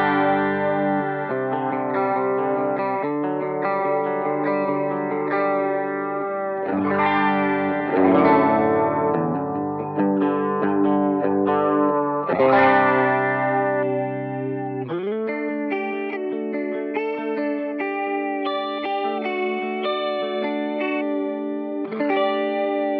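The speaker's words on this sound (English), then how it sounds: "So here's the Julianna engaged." An electric guitar runs through a Julianna chorus pedal set for heavy chorus, its shimmering, wobbling chords ringing continuously and shifting every few seconds, played alone with no voices.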